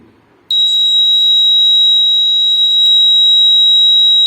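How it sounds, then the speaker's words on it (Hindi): A loud, continuous high-pitched electronic anti-theft security alarm tone starts abruptly and holds steady without a break. "अभी तक अलार्म हमारा बंद है, बट जैसे ही इस पे एक बार रोशनी गिरेगी"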